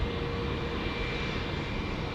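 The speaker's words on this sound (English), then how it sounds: "The inbound from Christchurch coming in." An inbound airliner from Christchurch lands at Auckland Airport with a steady, loud, broadband engine roar and a faint whine, holding constant with no talking.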